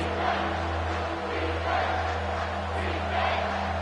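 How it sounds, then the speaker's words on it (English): A college football stadium crowd at an Ohio State versus Nebraska game roars in a loud, dense, continuous wash of cheering that swells and dips slightly, with no clear talk over it. "This crowd knows when to bring it."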